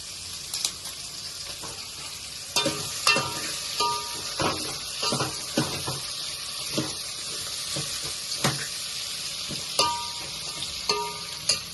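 Leaves drop into hot oil for a Telangana-style dal tempering and crackle and sizzle steadily, with irregular pops and spatters close by and no talking.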